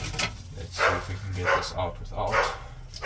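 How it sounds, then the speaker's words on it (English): Dogs bark repeatedly in the background of a shed where snakes are shedding, several sharp yips and barks spaced through the clip while a person talks over them. "sorry about the dogs in the background."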